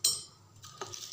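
A spoon stirs a Limca soda drink in a glass with a couple of bright, light clinks against the rim, quiet and close, separated by a brief soft swirl.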